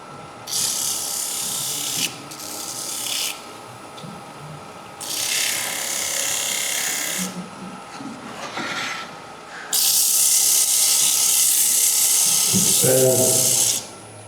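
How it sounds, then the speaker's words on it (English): Wood on a lathe held in a jam chuck being sanded, with bursts of loud, hissing abrasive rubbing that start and stop, the longest near the end, and quieter spinning between bursts. "You can use your jam chuck to sand."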